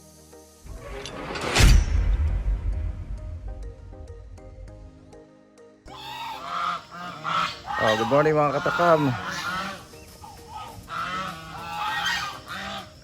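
Geese honk loudly at a farm, a sharp burst of close, harsh calls near the start fading into scattered honks, followed by people talking over the birds.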